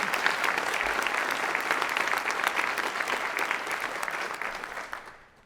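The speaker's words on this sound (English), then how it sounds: "If we could just give all of our partners a big round of applause." An audience gives a sustained round of applause at the ribbon cutting ceremony for Carolyn Pope Edwards Hall, with dense, even clapping that fades out at the end.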